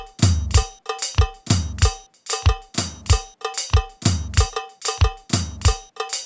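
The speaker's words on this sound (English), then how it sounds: "So it sounds like the cowbell is light, but the floor tom is heavy." A sequenced Kompa drum beat repeats a bright, light cowbell pattern over heavy, booming floor tom hits in a steady syncopated loop, loud and close, with no voices.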